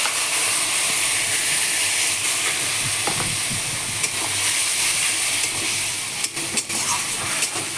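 Spices, boiled eggs and potato sizzling together in a pan for egg curry, a loud steady frying hiss with occasional scrapes and clinks of stirring.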